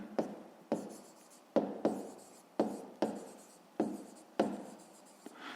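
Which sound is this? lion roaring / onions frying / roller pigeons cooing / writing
writing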